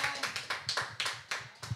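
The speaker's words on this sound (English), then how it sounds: "You can clap your hands better." Rhythmic hand clapping from a church congregation, steady beats about every quarter second, fairly faint and with no talk over it.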